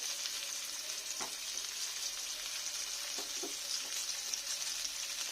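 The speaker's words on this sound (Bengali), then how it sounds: "ডালে যেরকম আমরা ফোড়ন দিই এইভাবে একটু ফোড়ন দিয়ে দিলাম।" Spices sizzling in hot oil as a tempering for dal, a steady quiet frying hiss with a few soft stirring clicks, heard alone.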